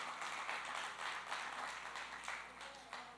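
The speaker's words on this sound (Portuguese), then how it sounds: "Diga amém e aplauda essa palavra poderosa" Church congregation applauding after a sermon passage, a faint, continuous wash of many hands clapping at a distance, steady throughout without any voice rising above it.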